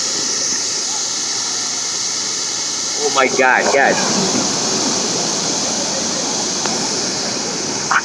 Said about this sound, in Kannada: ಒಂದೊಂದ್ ತರ ಫಾಲ್ಸ್ ಇದೆ ಇಲ್ಲಿ.